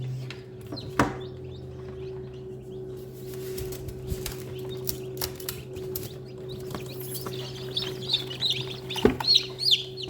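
Newly hatched chicks peep and chirp in soft bursts inside an incubator over a steady electrical hum, with a few clicks and knocks nearby.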